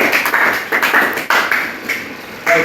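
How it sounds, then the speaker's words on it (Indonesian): Classroom applause after group presentations, short uneven bursts of clapping from a small group of students, close and fairly loud, with brief gaps between rounds. "kita kasih aplaus dulu."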